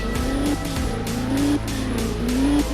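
A stuck Defender in the Indian Vehicle Simulator game revs loudly as its tires squeal in repeated rising bursts, the engine drone continuous and close throughout.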